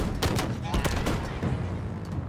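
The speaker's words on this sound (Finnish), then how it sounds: "Sä ammut haulikolla siitä" Shotgun fire in Halo Infinite sounds as a cluster of loud, booming blasts and impacts in quick succession, with a dense battle din underneath.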